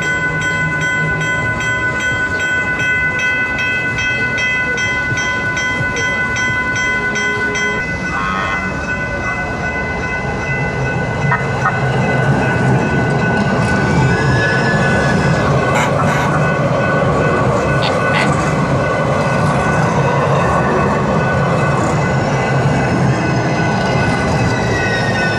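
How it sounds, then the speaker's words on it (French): A train rolls along a railway line running through the middle of San Diego beside the tramway, with steady wheel and carriage rumble. Squealing tones and horn-like blasts sound over it, and the noise grows louder in the second half. "il y a une voie de chemin de fer qui traverse la ville et qui longe d'ailleurs la ligne de tramway"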